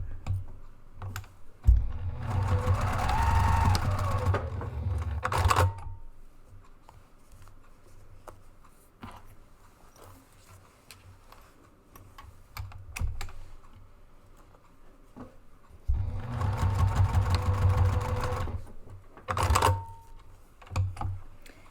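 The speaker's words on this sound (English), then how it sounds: "And then with the elastic, I do back stitch because that's definitely a stress point." A sewing machine back-stitches elastic onto a zip-top diaper bag, running in two rapid mechanical bursts of several seconds each, separated by a quieter stretch with small handling noises.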